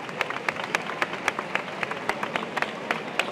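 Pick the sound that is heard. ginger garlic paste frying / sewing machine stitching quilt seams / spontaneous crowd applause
spontaneous crowd applause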